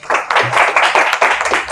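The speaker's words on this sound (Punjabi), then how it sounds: "ਸਾਡੇ ਪਵਾਰ ਸਾਹਿਬ ਦੇ ਲਈ ਇੱਕ ਵਾਰੀ ਤਾੜੀਆਂ ਲਗਾ ਦਿਓ" An audience claps at a Punjabi film press conference held before shooting begins. The applause is dense, continuous and fairly loud throughout, with no voices over it.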